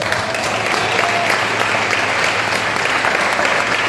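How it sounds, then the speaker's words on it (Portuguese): A church congregation claps for Jesus during a sermon, a steady, loud wash of hand claps with no breaks, filling the room throughout. "Pode aplaudir Jesus."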